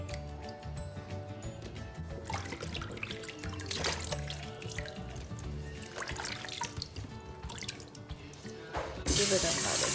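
Running tap water splashes into a sink as fruit is rinsed by hand, with an uneven, moderately close gush and trickle that shifts as the fruit moves, and a louder rush of water at the very end.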